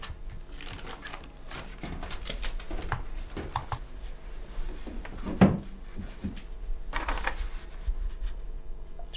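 A stuck office drawer being tugged repeatedly, giving a series of close wooden knocks, rattles and scraping jolts with one sharper bang midway, no talk over it.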